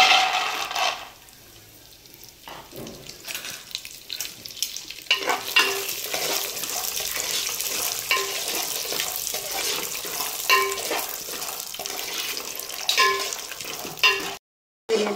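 Peanuts fry in hot oil while a spoon stirs them. A loud, continuous sizzle carries brisk scraping strokes throughout, following a quieter opening moment and ending with a brief dropout near the end.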